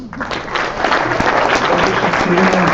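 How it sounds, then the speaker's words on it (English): Sustained audience applause at a high school sports awards event, a loud, dense wash of many hands clapping with some crowd voices underneath. "I want you guys to give your parents a round of applause."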